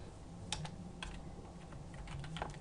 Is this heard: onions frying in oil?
no